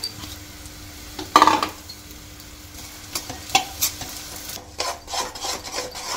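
Jaggery dropped into hot ghee in a pot and stirred, a sharp clatter and scrape followed by soft sizzling and bursts of rubbing strokes against the pan, close with no speech.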